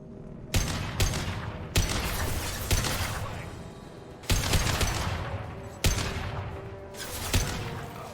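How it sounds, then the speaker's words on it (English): Heavy gunshots in the video game Mass Effect 2, six loud booming blasts at irregular intervals, each with a long decaying echo tail. "Firing a high-impact shot!"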